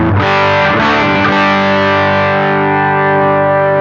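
An electric guitar chord through a Bearfoot FX overdrive pedal is struck once and left to ring, thick and gritty, sustaining loudly on its own.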